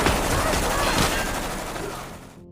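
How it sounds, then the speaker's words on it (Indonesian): Gunfire from a war film battle scene in Afghanistan, a dense, loud burst of rapid shots and booming blasts that fill the short span and fade out at the end. "seorang marinir bernama Joseph Smith sedang membawa seseorang sambil menembakkan senjatanya"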